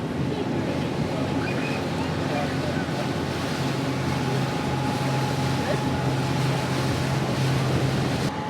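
A cable-guided ferry crossing water on an Ice Age Trail hike: a steady, continuous rumble of engine and water wash with faint wind, constant and unbroken throughout, with no clear talking.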